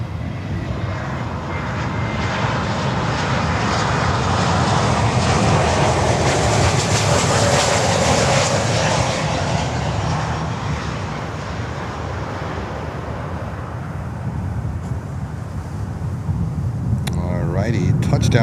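A heavy cargo jet lands on runway 9 at Miami airport, its broad engine roar swelling and fading steadily before quieter rumble and faint talk near the end.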